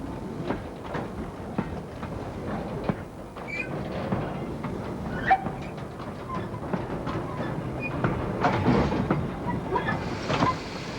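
A Churchward mogul steam locomotive moves the Old Oak Common breakdown crane into the shed yard, a faint, continuous rolling rumble with irregular clanks and squeaks of rail wagons.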